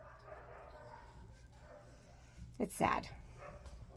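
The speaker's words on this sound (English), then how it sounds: "Why are you the cutest little puppy?" A puppy gives a short burst of yips and whimpers close by, loudest near the end, over a low background rumble while a person speaks softly.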